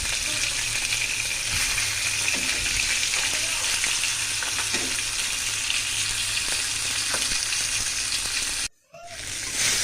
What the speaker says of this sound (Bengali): তো আমি আলু তারপর ছড়িটা কিন্তু ভাজা নিতেছি, ভাজা হয়ে গেছে।